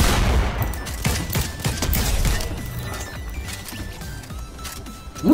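Rapid bursts of Uzi gunfire in a video game crackle in dense, loud volleys, tapering into scattered shots before a final sharp hit.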